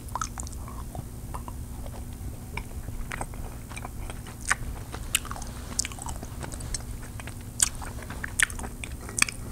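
Orange flavored chocolate candy from a Swedish candy bowl is bitten and chewed close up, with sharp little crunches and wet chewing sounds scattered irregularly over a quiet background and no speech.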